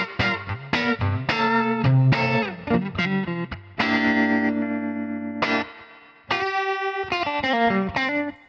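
Fender Princeton Reverb amp with tremolo and reverb both on, playing a sequence of guitar chords that swell and pulse before ringing out into a lush reverb tail, loud and close with no talking.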